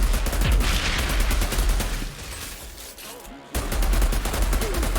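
Sniper gunfire in Outriders rattles in rapid, evenly spaced bursts, loud and continuous, briefly dropping away before resuming at full intensity.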